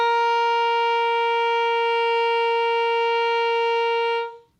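A single sustained high G held on an alto saxophone, a steady pure tone with rich overtones lasting about four seconds before a quick release, close and alone.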